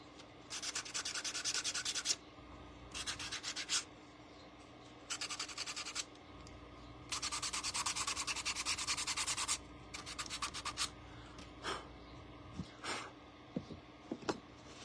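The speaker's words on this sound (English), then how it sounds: "I'm going to go ahead and sand the wing" Hand sanding on the wing of a painted eagle shelf sitter, a dry scratchy rubbing in several bursts of a few seconds each with short pauses, then a few light scrapes and taps near the end, close and alone.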